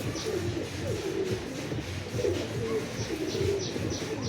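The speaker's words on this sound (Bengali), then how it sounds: "ও ভাইব্রেট পায়রা দেখে বোঝা যাচ্ছে, পাকিস্তানি পায়রা বিট এগুলো" Pakistani beat Kamagar pigeons coo steadily and close by in a dense, continuous murmur of overlapping calls, with no talking over them.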